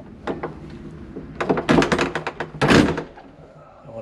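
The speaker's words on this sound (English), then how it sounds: "for the recorder, that was the front door being closed" A front door closing inside the historic Fort Mifflin, heard as a series of dull thunks and rattling knocks in two loud bursts, with fainter knocks before them, echoing in a large old building.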